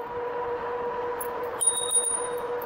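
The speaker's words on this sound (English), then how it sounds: "I'll ring a bell." A bicycle bell on a Rad Power RadRover e-bike gives a few bright rings partway through, over a steady hum of riding along a road.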